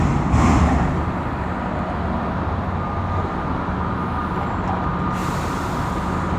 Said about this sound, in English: there's a garbage truck dumping on a dumpster. That's why it's so loud.